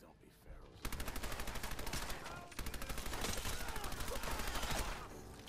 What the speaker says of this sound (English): it does shoot really fast, and that is the point of a machine gun